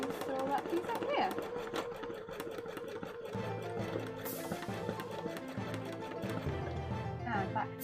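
A sewing machine stitches an embroidery panel for a cosplay costume, making a continuous rapid mechanical chatter with rhythmic needle ticks. It runs close and steady beneath a voice that talks throughout.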